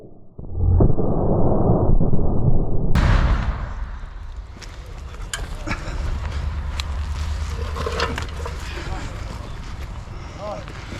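A Ukrainian army mortar fires with a sharp, heavy boom after a few seconds of muffled rumbling, followed by a long noisy echoing tail and scattered clatter in the open air.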